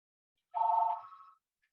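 A telephone rings once, a short trilling burst during a talk at an NAACP event, sounding faint and isolated, with no voices over it.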